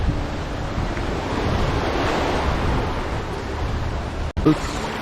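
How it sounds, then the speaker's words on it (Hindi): Sea waves wash onto the shore at North Bay Island in the Andaman Islands, a steady surf and wind wash, close and loud, with a brief dropout near the end. "ये आ गया समंदर सारा, ये सारा समंदर आ गया"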